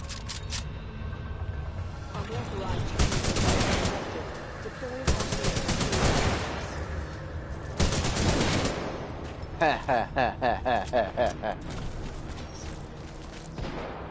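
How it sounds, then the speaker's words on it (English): Automatic weapon fire in the shooter video game Titanfall 2, loud bursts and rapid rattling volleys repeating across the clip with a quick run of sharp pops near the end. "Who's shooting at me?"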